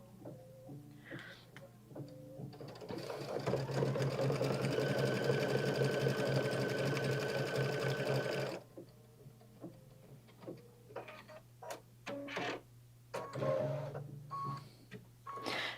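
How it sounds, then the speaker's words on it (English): A home embroidery machine runs in a fast, steady rhythmic whirr for about five seconds, tacking chenille pieces in place. Clicks, handling sounds and quiet voices come before and after. "it's just tacking each of those 3 chenille piles in order"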